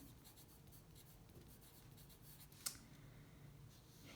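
Pencil or pen scratching on paper while a story sequence is written out, a faint continuous rubbing with a small tap near the middle, quiet and close with no talking.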